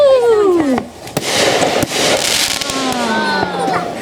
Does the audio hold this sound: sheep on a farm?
no